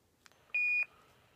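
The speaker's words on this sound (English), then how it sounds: "This is the subband weather radio and Echolink beep." A ham radio repeater sends its Echolink beep: a single clean electronic tone lasting about a third of a second, preceded by a faint click, with quiet hiss around it.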